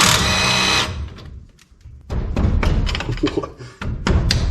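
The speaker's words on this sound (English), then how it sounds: "Let's break out some power tools, make this a little easier." A loud power tool whirs in short bursts, starting and stopping several times with clunks and thuds between runs, close by.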